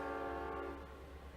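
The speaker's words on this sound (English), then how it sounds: "Oh, looks like the trains just went by." A passing train sounds a faint, distant horn, a sustained tonal blast that fades out after under a second, leaving quiet room noise.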